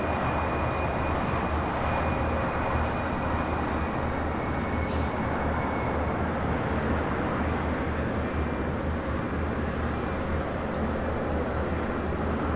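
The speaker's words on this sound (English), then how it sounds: "And the United Dreamliner now rolling on 25 right." A United Dreamliner jet rolls down runway 25 right at LAX with a steady, broad engine roar and rumble at moderate distance, holding evenly throughout.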